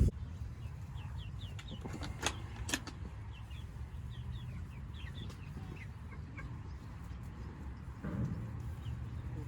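Chickens cluck and chirp softly inside a pasture tractor on green grass, many small calls scattered over a steady low rumble, with a few louder knocks close by.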